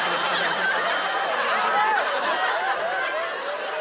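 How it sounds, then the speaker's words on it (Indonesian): An old-model wifi telephone rings steadily and loudly for several seconds at a Christmas concert drama performance, with faint chuckles and murmurs from the audience underneath. "ini telepon wifi"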